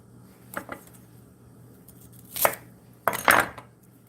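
A knife chopping a sticky Vidalia onion on a cutting board: a couple of light taps, then louder scraping chops in two bursts, close and without talk.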